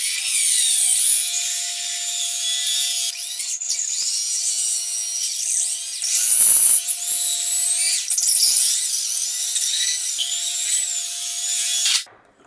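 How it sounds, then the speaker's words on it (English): A hole saw on a drill grinds steadily through terracotta for several seconds, a loud continuous high-pitched rasp with a few brief catches before stopping abruptly. "So I'll just put the drill bit back in the pilot hole"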